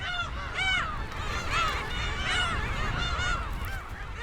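A crowded colony of black-tailed gulls nesting in sedge on Hongdo island, many overlapping mewing, honking calls rising and falling in waves against a steady background of wind and surf.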